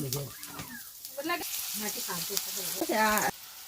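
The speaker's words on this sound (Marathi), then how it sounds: "तेल गरम झाल्यानंतर सर्वात आधी कांदा" Chopped onion going into hot sweet oil, a steady sizzling hiss of frying under a voice talking over it.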